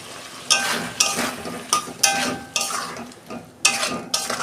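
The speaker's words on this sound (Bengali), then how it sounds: "2 মিনিট একটু নাড়াচাড়া করে জল দেবো।" A cauliflower-potato masala with ground sesame paste and a little sugar is stirred in a pan, the spoon scraping in repeated strokes about every half second over a steady low sizzle.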